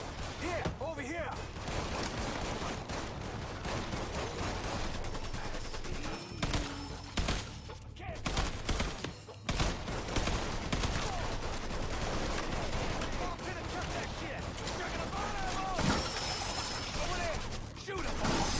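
A Mafia 3 shootout, with bursts of gunfire and rapid automatic shots crackling continuously over a long stretch, mixed with crashes and shouting voices.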